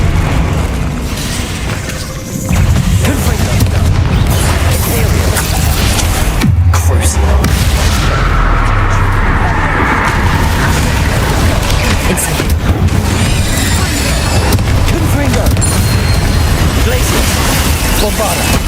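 Bombarda spell blasts go off during a duel in Hogwarts Legacy, with deep booming bursts inside dense, loud game noise, while a voice talks throughout.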